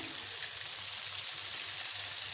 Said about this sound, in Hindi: मीडियम फ्लेम पर हम इसको फ्राई करेंगे